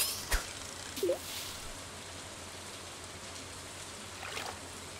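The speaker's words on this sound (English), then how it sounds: "Just fishing in the rain." Steady rain in Stardew Valley while fishing, a soft continuous hiss filling the background with a few brief louder splashes and ticks early on, no voices.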